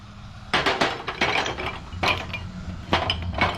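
Glass light bulbs clinking and knocking together as they are tossed into a drawer, a series of sharp bright clinks in uneven bursts, close and fairly loud, with no talking.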